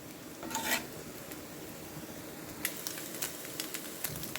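A pan of frying chicken and egg for fried rice being stirred, with a soft sizzle, a brief scraping burst early on, then scattered light clinks and taps of a utensil against the pan.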